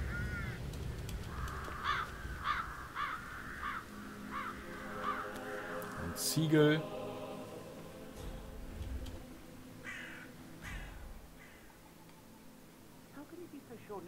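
In the video game Hitman 3, crows caw repeatedly in short harsh calls, scattered among other game sounds and clinks, while someone talks over them.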